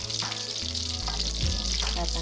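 Chicken bola-bola meatballs frying in a pan give a steady, close sizzle that continues without a break, with faint scraping from the pan underneath.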